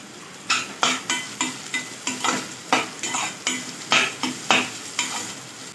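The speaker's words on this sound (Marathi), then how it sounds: "यात आपण शिमला मिरची ॲड करत आहोत. ती छान फ्राय होतोपर्यंत आपण खरपूस करून घेऊया." Bell peppers fry in a pan for egg biryani. A spatula scrapes and stirs in a regular rhythm of about a dozen close strokes over a soft, continuous sizzle.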